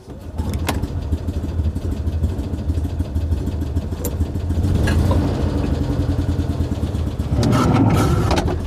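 A Citroen 2CV engine cranks and catches, then runs unevenly with a rough, lumpy idle from one very leaky cylinder, loud and close, with several sharp clatters and a revving swell near the end.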